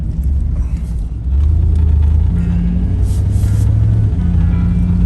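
A 1992 Chevrolet Camaro Z28 engine runs while driving, a loud, steady low rumble from inside the car that lifts slightly in pitch as it accelerates, with no talking.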